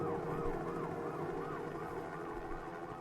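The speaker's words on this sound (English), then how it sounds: "Choppers, sirens to end it off." Wailing emergency sirens sweep up and down in steady repeated cycles, layered over a dense music mix at the close of a hip-hop track, continuing loudly throughout.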